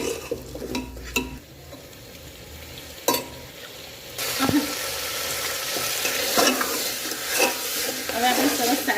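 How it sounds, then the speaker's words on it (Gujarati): Potatoes being stirred and roasted in spice masala in a pan over a low gas flame: a steady sizzle with repeated scraping stir strokes and a few sharp utensil knocks, close and fairly loud. "હવે આપણે સરસ સારી રીતના મિક્સ કરી લઈએ આ રીતના અને 1 મિનિટ સુધી આ રીતના ધીમા ગેસ પર એને શેકાવા દઈએ"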